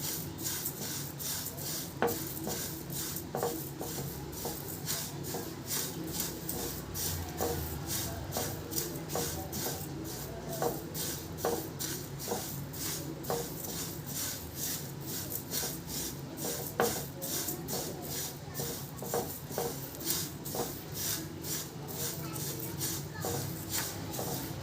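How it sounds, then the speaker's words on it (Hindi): Spices with ajwain dry-roasting in a pan for red chilli pickle, giving a steady dry scraping and rubbing as a spoon stirs the seeds, with frequent small clicks of metal against the pan throughout. "अब सभी मसालों को थोड़ी देर भून लेंगे हम, जिससे कि हमारे सभी मसालों की नमी निकल जाए"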